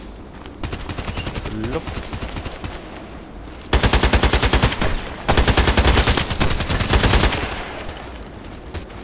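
AKMS rifle fire in the shooter game Contract Wars, rapid automatic bursts loud and close, with a long sustained stretch of rattling shots in the middle and a short spoken word over the start.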